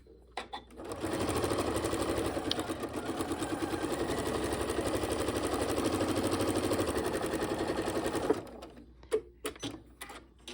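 Sewing machine stitching a seam to finish a pieced pansy quilt block, a steady close whirring hum running unbroken for about eight seconds before stopping, followed by light handling clicks.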